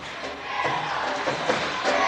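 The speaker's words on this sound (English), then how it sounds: "Gate City bringing a very vocal crowd here tonight." Vocal basketball crowd from a Gate City versus Marion high school game filling nearly full bleachers, a dense, continuous roar of cheering and shouting voices, fairly loud and sustained throughout.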